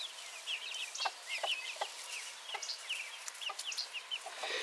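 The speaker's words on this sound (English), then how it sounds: "There's little chicken following Rusty around like a little groupie again" Backyard chickens cluck in short, chirpy bursts, several birds overlapping at moderate distance in a quiet pen with no talking.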